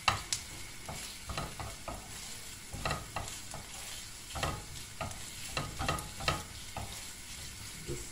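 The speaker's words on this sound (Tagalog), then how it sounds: "Gisa-gisahin natin ng konti. I-mix po natin siya." Salmon sautéing in a pan with garlic, a low sizzle punctuated by repeated clacks and scrapes of a utensil stirring at an uneven rhythm.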